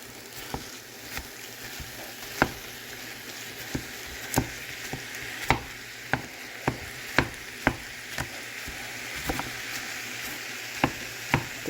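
Ground beef and onions fry in a pan for tacos, a soft continuous sizzle broken by about a dozen sharp scraping knocks of a utensil stirring against the pan.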